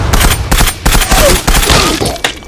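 Dense gunfire and grenade blasts in the online shooter Zula, loud rapid bursts of shots and booming impacts crowding together without a break over a few seconds.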